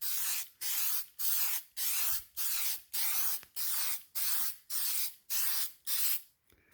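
A spray can lays clear gloss top coat onto a car hood scoop in eleven even, evenly spaced hissing bursts, each about half a second long with short pauses between, loud and close with no talking.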